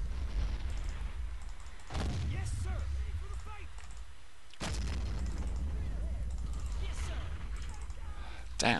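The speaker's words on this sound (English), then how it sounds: "Damn, those bloody mortars" Mortar fire in the World War II strategy game Men of War, with a few sharp, booming impacts standing out over a low rumbling battlefield while someone talks throughout.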